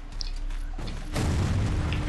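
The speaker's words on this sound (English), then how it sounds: "Big explosion." A big explosion in the Civil War Secret Missions video game: a low rumbling boom that swells about a second in and keeps roaring loudly to the end, with no talking over it.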